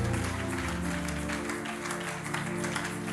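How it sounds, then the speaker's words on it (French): A church congregation at a Sunday service claps together in a sustained, dense patter of applause that fills the room, with a low murmur of voices beneath it. "Si tu peux acclamer, acclame."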